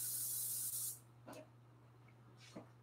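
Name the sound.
cooking spray sprayed onto parchment paper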